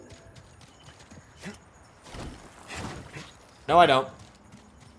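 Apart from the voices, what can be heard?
horse hooves clip-clopping in video game Star Wars Jedi: Survivor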